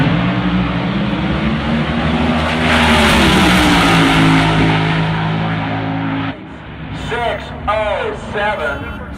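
A nitro funny car makes a drag racing pass at Tucson Dragway, its loud, sustained engine roar rising and sweeping past before cutting off. An announcer then talks excitedly over the fading noise.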